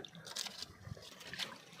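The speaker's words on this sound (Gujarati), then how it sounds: "આ મરચીમાં પાણી ચાલુ છે" Irrigation water runs into a chili field in a faint, quiet trickle and gurgle, soft and a little distant, with bits of outdoor background.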